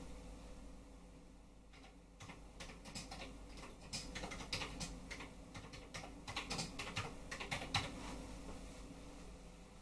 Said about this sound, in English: if we type on the Commodore, we should see it coming out on the Putty terminal.